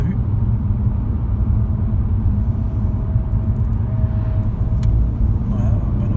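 Peugeot 308 GTI cruising on a road in bad weather, a loud, steady low rumble of engine and road noise from inside the cabin with a person talking over it.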